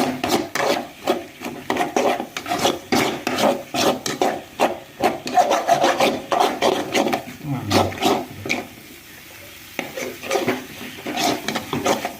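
Spatula scraping and stirring egg stir-fry (muttai poriyal) in a pan, a steady run of close rhythmic rubbing strokes with a short pause midway, a voice speaking faintly underneath.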